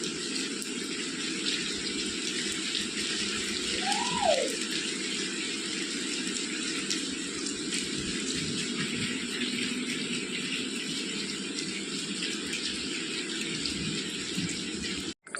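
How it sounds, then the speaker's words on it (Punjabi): Steady, dense rushing of heavy monsoon-style rain at a house, a continuous broadband wash with no voices. "ਮੀਂਹ ਕਿੰਨਾ ਤੇਜ਼ ਆ ਗਿਆ ਆ ਦੇਖੋ ਦੋਸਤੋ"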